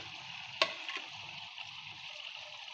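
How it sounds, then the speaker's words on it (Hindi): Fish frying in a kadhai with oil and onions, a faint steady sizzle with one sharp utensil clink early on and soft low rumbles underneath. "हमारी मछली वहाँ फ्राई हो रही है"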